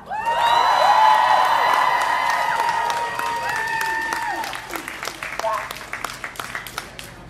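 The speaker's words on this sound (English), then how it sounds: "so give yourselves a round of applause" A crowd claps, cheers and whoops loudly at a rally, with the applause thinning into scattered individual claps by the end.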